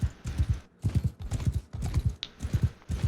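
Horses charging in battle in Mount & Blade 2: Bannerlord, a steady fast clip-clop of many hooves pounding in galloping bursts, close and loud with no talk.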